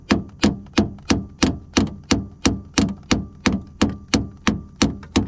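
A small hammer taps on the steering parts of an E36 drift car, sixteen or so evenly spaced, sharp metallic knocks in a steady rhythm, close and clear.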